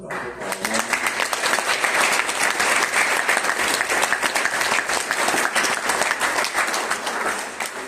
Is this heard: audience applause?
yes